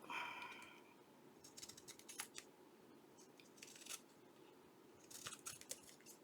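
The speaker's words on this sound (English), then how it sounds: "All right, trim this up." Scissors trimming paper for a handmade feminine journal, giving several short snipping bursts close up against a quiet room background.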